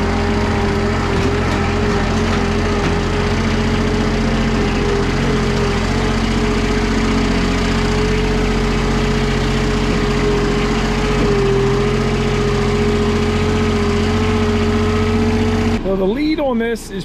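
John Deere engine running continuously at a steady, loud, close drone with a constant hum, ending in a short higher-pitched change.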